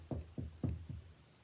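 Four evenly spaced knocks on a door, low and dull, close by and alone with no speech.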